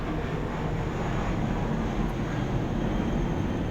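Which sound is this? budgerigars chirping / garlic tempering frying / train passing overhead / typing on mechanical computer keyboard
train passing overhead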